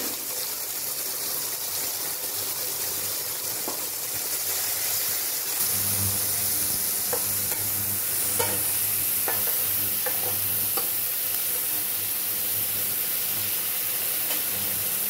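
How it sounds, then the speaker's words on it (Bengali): Onion and capsicum frying in a pressure cooker, a loud steady sizzle and hiss with occasional spoon clicks and stirring scrapes, the frying growing fuller and more intense midway. "পেঁয়াজটা একটু ভাজা হবে।"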